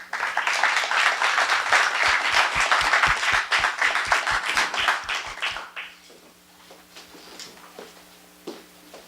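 An audience claps to welcome a speaker at a university talk, with dense, loud applause for about six seconds before it quickly thins out to scattered claps and room noise.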